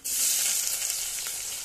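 Onions drop into hot oil with cumin and mustard seeds for a ridge gourd dal, giving a bright, dense hiss of frying that swells at once and holds steady for a brief moment.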